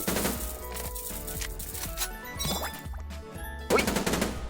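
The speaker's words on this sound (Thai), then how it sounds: "มีปืนยิงใกล้แล้วปืนยิงไกลนะฮะเพอร์เฟกมาก ยิงแรงไปได้เลย" Gunfire in a zombie shooter video game: dense rapid automatic bursts over a busy layer of game music and effects, with a heavier blast near the end.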